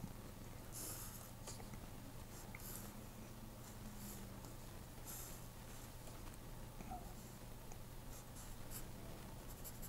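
A pen or pencil scratches across paper while a rocket is drawn, soft continuous scribbling strokes, quiet and close, with no talking.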